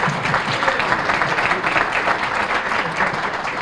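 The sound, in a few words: audience applause at State of the City event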